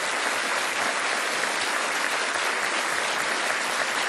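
Audience applause fills a TV show hall, a dense, steady clapping that stays loud and even throughout, with no voices rising above it.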